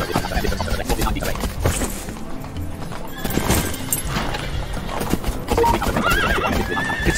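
A horse in a video game neighs and whinnies over a steady clip-clop of hooves, loud and continuous, with game background sound underneath.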